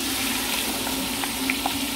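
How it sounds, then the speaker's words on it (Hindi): Tomatoes and green chillies fry in a pan with a steady, soft sizzle, broken by a couple of faint clicks and pops, and no voices. "ये देखिए टमाटर भून गया अब पूरा तरीके से"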